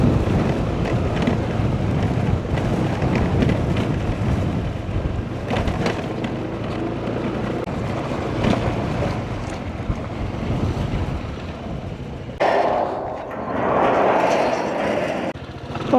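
Strong wind buffets the microphone in a constant loud roar, with rushing gusts and a surging, wave-like wash throughout.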